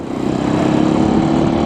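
A Janus Halcyon 450 motorcycle's 30-horsepower single-cylinder engine pulls while riding, a loud, close, steady thumping drone with a fast pulsing beat and no voices.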